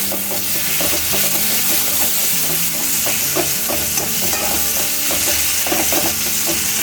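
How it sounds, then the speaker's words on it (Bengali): Onions sizzle and crackle in hot oil, a steady loud frying hiss with occasional stirring scrapes, close up and continuous. "তেল আমার গরম হয়ে গেছে, তেলে আমি দেব, প্রথম ছাড়ছি আমি পেঁয়াজটা দিয়ে দিলাম।"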